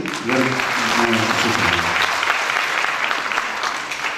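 A ghazal club audience gives sustained, even applause, loud and close, with a voice talking over the first couple of seconds.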